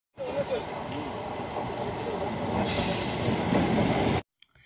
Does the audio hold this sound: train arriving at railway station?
yes